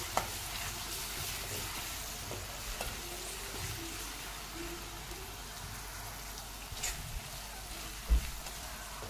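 Chopped onion and crushed green chilli thecha sautéing in a pan for zunka, a faint, steady sizzle with light stirring scrapes and a single sharp knock near the end.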